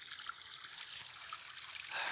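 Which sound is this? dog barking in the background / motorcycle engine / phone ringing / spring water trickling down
spring water trickling down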